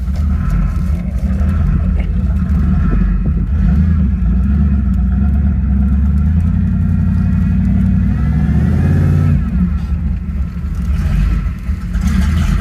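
A drivable car engine runs loud and close throughout, a steady low rumble with revving surges, an uneven, erratic idle and a brief swell of acceleration near the end.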